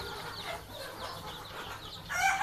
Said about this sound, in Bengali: এখন শুধু তুষের উপরে মুরগির বাচ্চাগুলো থাকবে।